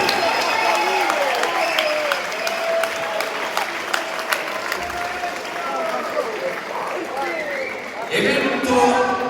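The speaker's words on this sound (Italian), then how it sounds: "un grande applauso va al maestro Ivano Biagi del Boxing Club Calenzano." A crowd at a boxing event claps and cheers steadily, with voices calling out through the applause and a burst of louder clapping near the end.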